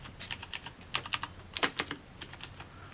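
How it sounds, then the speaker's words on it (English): A modular mechanical keyboard with tactile switches being typed on, giving quick bursts of crisp clacky keystrokes in an uneven rhythm, close and clear with no talk. "It has a very, very nice tactile sound. I went with these switches because I prefer kind of more of a tactile feedback."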